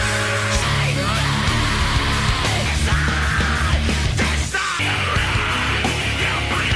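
A frontman screams at full force over a dense, loud rock band mix, his raw yelling voice sustained across the passage with heavy guitars and drums underneath.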